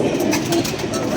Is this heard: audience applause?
no